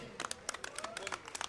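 Applause from the crowd at a BJP rally in Gohana welcoming an arriving speaker, heard as scattered, uneven claps and cheers with some voices mixed in, fairly faint and at a distance.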